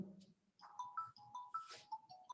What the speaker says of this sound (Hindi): भैया फोन काटो ना